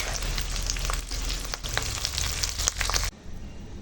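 Cashews and raisins lightly frying in hot oil for masala rice, a continuous crackling sizzle broken by a few sharp stirring clicks before it abruptly thins out near the end.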